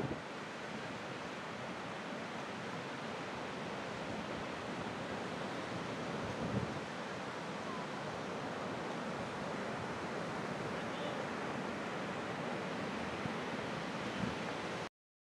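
Ocean surf breaking at Sopelana beach on the Basque coast, a steady faint wash of waves mixed with wind noise, unbroken from start to finish with no voices.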